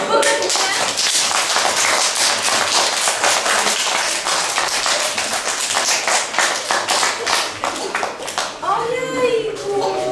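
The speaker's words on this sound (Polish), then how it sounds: "To może brawa." Children at a kindergarten performance clap in a quick, dense patter that stays loud and steady for most of ten seconds before thinning out, with a voice speaking near the end.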